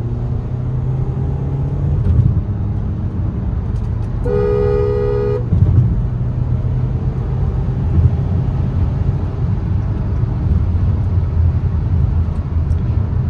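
Volkswagen Jetta 2.0 Highline automatic accelerating, heard from inside the cabin: a steady low engine and road rumble throughout, with a brief horn-like tone about a third of the way in.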